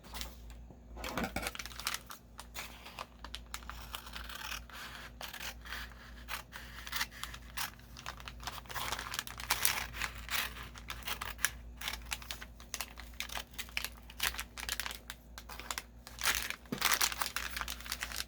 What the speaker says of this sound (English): Let me go ahead and cut this open.